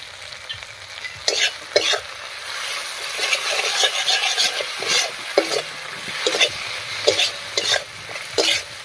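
Ground spice paste of garlic, dried chilli, cumin and coriander with okra, salt and turmeric is stirred in a frying pan, giving a soft, continuous sizzle with irregular scraping strokes of the spoon against the pan.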